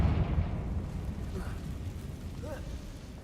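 Confringo blasting spell explosion in the Hogwarts Legacy video game, a deep rumbling boom that hits loud at the start and slowly fades, with a few faint tonal effect sounds over it.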